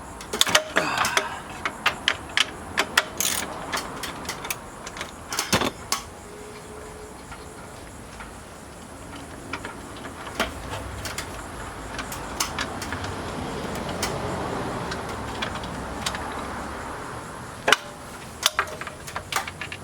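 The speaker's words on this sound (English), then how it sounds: "I got my 15 millimeter socket, got my extension, and my 1/2 inch ratchet." A half-inch ratchet with a 15 mm socket and extension loosens fan shroud bolts on a 6.0 Powerstroke. Quiet, sporadic bursts of sharp clicking come and go with short pauses, with no talking.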